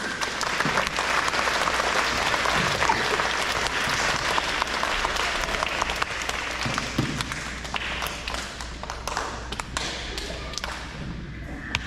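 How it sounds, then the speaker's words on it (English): Sustained applause from an audience at an elementary school awards ceremony honoring two students, a dense steady patter of many hands lasting throughout, with scattered sharper claps and thumps and no talk. "Give both of these gentlemen a round of applause"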